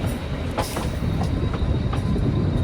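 A train runs along a small narrow-gauge rail line toward Kalka, a loud steady rumble of wheels with periodic clacks and light squeals.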